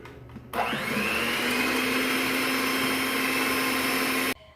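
Electric hand mixer whipping sugar and cream of tartar into meringue for Christmas meringue cookies, switching on abruptly and running as a steady, loud, close whir with no talk before cutting off.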